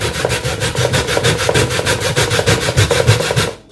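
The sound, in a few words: grating cassava by hand on a grater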